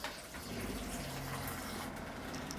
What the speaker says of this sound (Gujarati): તો આને આપણે થોડુંક પાણી નાખી અને પીસી લેવું.